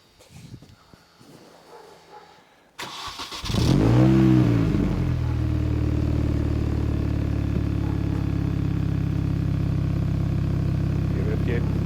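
A Mini's engine cranks and fires up through its exhaust after quiet background chatter, then rises in a loud rev before settling into a steady, rumbling idle.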